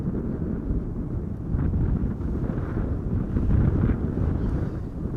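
Gusty wind buffets an outdoor microphone at Amsterdam Schiphol Airport, a low rumbling rush that swells and eases in uneven surges, with no talking.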